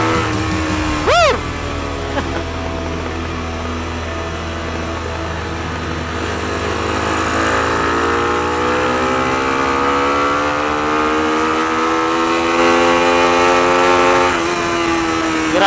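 A Motorstar Z200S motorcycle with a racing carburetor revs up and accelerates in third gear, its pitch rising steadily and holding loud and close, with a sharp rev burst near the start.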